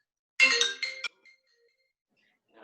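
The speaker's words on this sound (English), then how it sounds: "And of course, I get a phone call on the day I decided to use my phone as my stopwatch." A phone ringtone for an incoming call plays as a short, bright burst of tones that stops, then starts again faintly at the end, with silence between and no talk.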